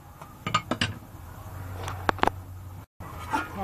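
A metal lid clanks back onto a cooking pot of simmering broth, with a few sharp clinks and knocks of metal on metal, close and moderately loud over a faint background hum.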